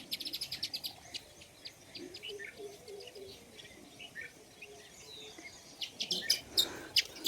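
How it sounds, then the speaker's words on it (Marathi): Sparrows chirp in the morning around a village house, where pigeons also come to feed on rice. Bursts of rapid, high-pitched tweets sound fairly close, at the start and again near the end, over a soft, continuous background. "कसलं किलबलाट आहे बघा सकाळी सकाळी गावाकडचं गावाकडं चिमण्यावाचं"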